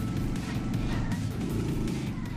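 A car engine in the Smashy Road: Wanted 2 video game drones steadily at close range, a continuous low growl with slight rhythmic pulsing and no talking.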